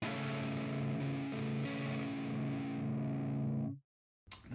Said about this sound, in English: The second chord is going to be a similar shape with the pinky pushed